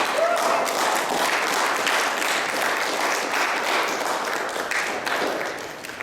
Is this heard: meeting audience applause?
yes